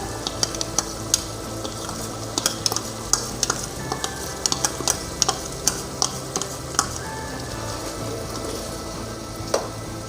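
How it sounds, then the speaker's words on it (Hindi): Ghee sizzling with chicken Afghani karahi in a pan over a high flame, a dense, steady frying hiss dotted with frequent sharp pops and clicks of stirring throughout. "अब हम इसमें तकरीबन आधा कप घी डालेंगे"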